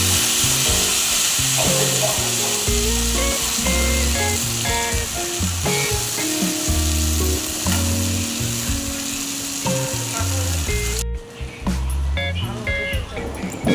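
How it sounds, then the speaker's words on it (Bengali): Boiled taro leaves sizzle and fry in a pan while being stirred, a steady loud crackle running throughout with scraping movements and some background music-like tones. "সেদ্ধ করে রাখা কচু শাক দেওয়ার পরে নাড়াচাড়া দিয়ে"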